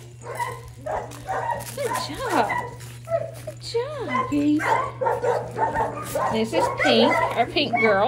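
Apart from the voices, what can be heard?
dogs barking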